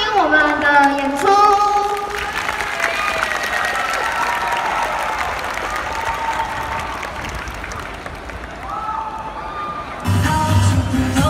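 A crowd applauds and cheers for a tourism-department graduation flash mob in front of a school building, with sustained clapping and whoops rising loudly at the start and again at the end, and some voices mixed in.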